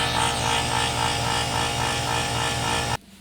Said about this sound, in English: That compressor is struggling.